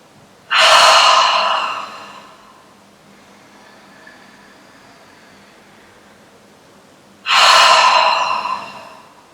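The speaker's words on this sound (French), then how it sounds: "on va prendre une longue inspiration par le nez, remplir les poumons, remplir le ventre. Et on relâche tout par la bouche." Two deep, slow breaths during a prenatal hip-opening relaxation session, each a long airy exhale through the mouth after a nasal inhale, separated by a few seconds of near silence.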